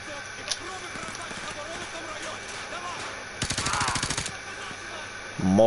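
Automatic weapon fire in Call of Duty Modern Warfare 2 Remastered campaign, a dense burst of rapid shots mid-clip amid ambient battle noise, with voices talking around it.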